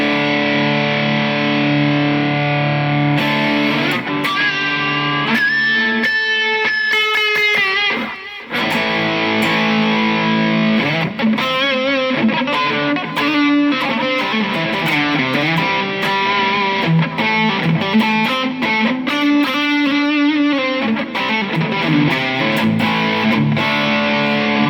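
Distorted lead guitar solo through a TANK G multi-effects unit, loud and sustained, with quick runs of single notes, rising bends and held tones played alone without talking.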